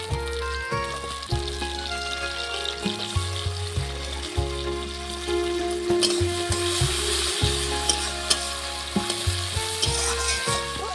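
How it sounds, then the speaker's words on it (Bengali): Tomatoes fry in a pan with a loud, steady sizzle and crackle, punctuated by repeated scraping stirs, heard up close without talk. "টমেটোটা কিন্তু ভাজা ভাজা হয়ে গেছে"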